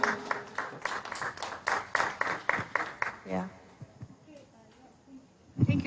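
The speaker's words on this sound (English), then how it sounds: "Let's clap him out of the room." An audience claps steadily for several seconds as a speaker leaves a talk on career change, then the applause thins out into scattered claps and quiet, with a brief spoken word.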